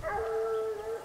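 Hunting dogs howling during a boar hunt in an enclosed park, one long, sustained, wavering howl close by, with faint voices in the background.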